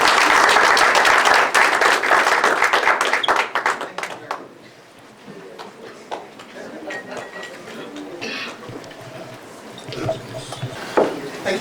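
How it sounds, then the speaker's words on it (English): An audience at a Power for Peace event in Nigeria applauds a governor's wife, loud dense clapping that thins out after a few seconds into scattered claps, a few voices and room noise. "Please give her a round of applause."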